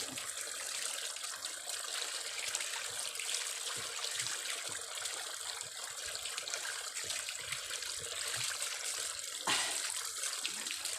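Steady rushing well water flows continuously, like a strong stream pouring from a pipe or spout, close by with no talking.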